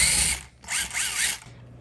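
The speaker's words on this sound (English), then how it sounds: "I'll probably have a better grip if I use one of these sockets." Socket ratchet clicking rapidly while loosening the screws of a thermostat wall plate, two short bursts of close ratcheting with a brief pause between.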